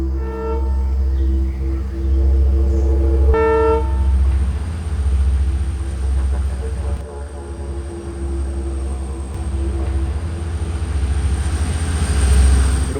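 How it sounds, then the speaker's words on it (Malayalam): A train pulls in at a railway platform, its deep, steady rumble filling the whole stretch at close range with a brief brighter clank partway through and no talk over it. "അപ്പോൾ എനിക്ക് പോകാനുള്ള ട്രെയിൻ ഇപ്പോൾ വരും"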